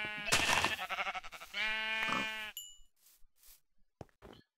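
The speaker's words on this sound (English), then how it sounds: "Oh, sheep. Here, sheep." Sheep bleating in a video game, two or three drawn-out, strongly harmonic bleats close together, followed by faint scattered game sounds and quiet clicks.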